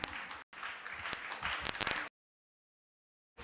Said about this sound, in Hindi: बहुत अच्छा, तालियां तो बजा दो